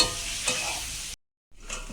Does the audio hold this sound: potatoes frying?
yes